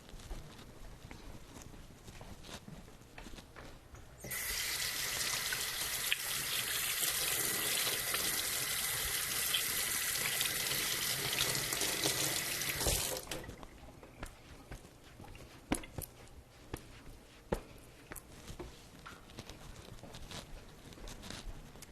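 A kitchen tap is turned on and gushes steadily into a sink for about nine seconds while something is rinsed off during cookie baking, then shuts off, leaving soft clatter and small knocks.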